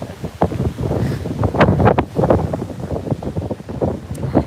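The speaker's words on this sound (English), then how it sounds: "It's getting too windy over here." Strong wind from Hurricane Milton on Florida's east coast buffets the microphone in continuous rumbling gusts, loud and close, with no voices.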